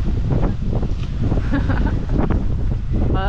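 Strong wind gusts roar around the Geneva fountain, carrying water spray in a loud, constant rumble close to the microphone.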